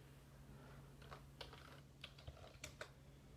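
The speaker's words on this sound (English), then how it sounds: "Typing with one hand is not working very good for me." Someone types one-handed on a computer keyboard, producing sparse, irregular clicks and taps, quiet and close, over a faint steady electrical hum.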